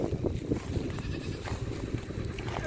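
Goats bleating at a farm shelter where they have been given pumpkins, a few wavering bleats rising over a busy low rustle of animals nearby, with no talk.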